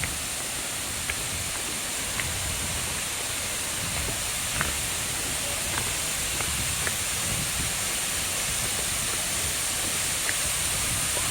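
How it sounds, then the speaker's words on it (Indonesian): Sedudo waterfall in Nganjuk, a steady broadband roar of falling water that holds at an even level throughout, with a few faint clicks above it. "Inilah air terjun Sedudo"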